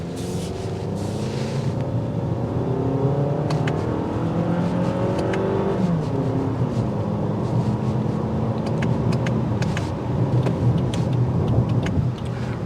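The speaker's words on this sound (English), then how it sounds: "Road noise will filter in a little bit." Inside a 2024 Lexus ES250 on 18-inch wheels, a steady drone of engine and road noise fills the cabin while driving, with gear-like pitch sweeps and scattered light ticks.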